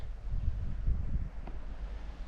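Light wind blows steadily across a quiet seaside cove at Kille Koyu in Muğla, a soft low rumble of gusts buffeting the microphone with no other sounds.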